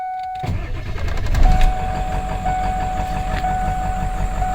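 A 1997 Ford F-350 pickup engine cranks briefly and catches, then settles into a steady, rumbling idle close by, with a faint whine running through it.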